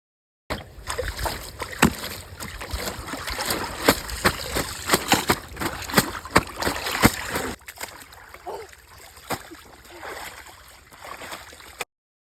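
Clothes are washed by hand in water, with repeated close splashes, slaps and sloshing in an uneven rhythm that thins out toward the end.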